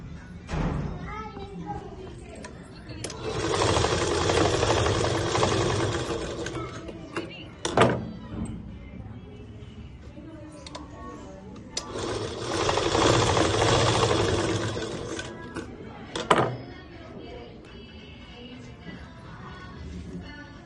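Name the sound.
sewing machine stitching a school skirt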